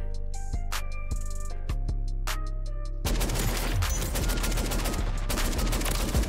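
Automatic battle rifle fire in Modern Warfare 3, from a shotgun fitted with a conversion kit: a few spaced single heavy shots, then a dense sustained burst of rapid, loud gunfire lasting several seconds.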